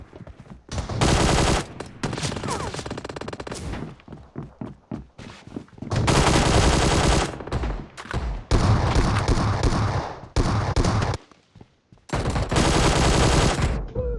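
Desert Eagle pistol fire in the mobile game PUBG Mobile comes in loud, rapid bursts of close gunshots separated by short pauses, repeated several times across the stretch.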